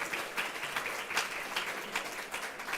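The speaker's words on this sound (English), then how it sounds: "yes, we can applaud for that" Audience at a climate and human rights panel applauding a speaker; a few seconds of soft, steady clapping with irregular louder pulses, rather faint and distant.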